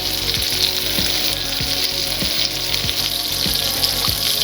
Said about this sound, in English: Frying pan, turn into medium high. So we're gonna put the butter